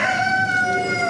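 A rooster crows at an indoor chicken and rabbit show, a single close, drawn-out call with a strong harmonic tone that holds steadily for about a second.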